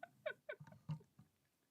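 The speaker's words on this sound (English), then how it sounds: "Aw, cute kitty." A cat meows several times in quick succession, a cluster of short, bright, close mews that fades into softer chirps at the end.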